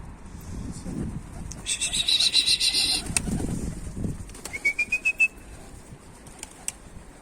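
A pigeon flaps its wings in flight, giving rapid rhythmic bursts of wingbeats that come and go close by outdoors, alongside sharp whistling tones and faint background noise.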